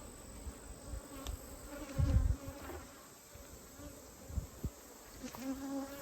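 Honeybees buzz faintly around a hive being reduced by four frames, a thin continuous hum with a few soft knocks and handling thumps nearby.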